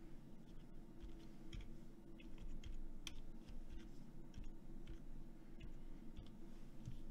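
Fingers type steadily on a PS2 computer keyboard wired to an Arduino with an LCD screen, a close run of quick, light key clicks at an uneven pace over a low constant hum.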